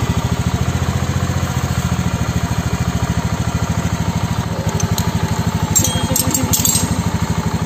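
A Honda Beat scooter engine idles steadily after repair of a loose rattling part, with an even, rapid pulsing throb, close and constant, with a brief light rattle near the end.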